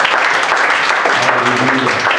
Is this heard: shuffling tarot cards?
no